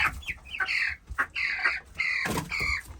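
Broiler chickens cluck and chatter close by in a steady stream of short, busy calls with no talking.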